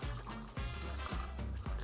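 Liquid pours from a cocktail shaker into a glass for an Angry Bloody Rancor made with fresh lemon and lime, a close steady trickle broken by three short pauses.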